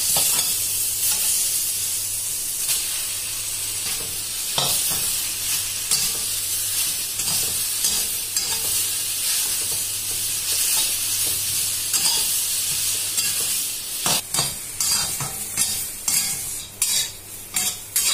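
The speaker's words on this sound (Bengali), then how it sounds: "কিছুক্ষণ এটাকে এইভাবে ভালোভাবে নাড়াচাড়া করতে হবে, যতক্ষণ না এই পাতা আর খোসাগুলো ভাজা হচ্ছে" Pumpkin leaves and peels sizzle steadily in a hot pan as a spatula stirs and scrapes against the metal, a constant frying hiss punctuated by sharp clinks, no voices.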